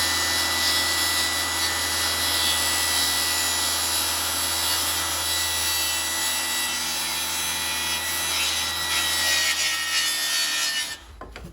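Laminate flooring being sawn to remove its tongues for a shed floor: a steady, close, continuous rasping saw runs without pause for about eleven seconds, then stops abruptly, with no talking.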